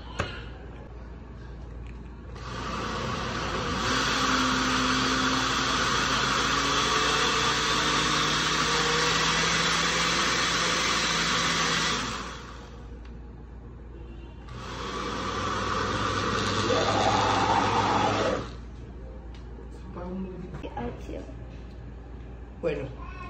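A kitchen blender whirs loudly while liquefying Venezuelan chicha, in a long steady run of about ten seconds, then a short break and a second burst of several seconds, with quieter handling sounds on either side.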